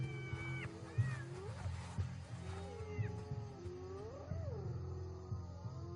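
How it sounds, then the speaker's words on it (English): Many adult hyenas of a clan calling noisily together in the wild after a male lion takes their kill, a dense overlapping chorus of rising and falling whoops and wails, loud and continuous throughout. "Soon, 30 adult hyenas are all protesting noisily."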